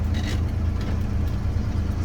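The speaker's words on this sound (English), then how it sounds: "I've had it running for the last probably 15 minutes or so to try and give a little juice in the batteries" A 1997 International 4900 tool truck's engine idles steadily, a deep continuous rumble holding constant level throughout with no talking.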